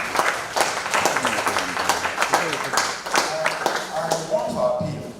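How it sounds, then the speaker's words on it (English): Audience members at an artificial intelligence technology conference in Nigeria clap in a dense round of applause, while a voice keeps talking over the clapping. "Please give yourselves a round of applause."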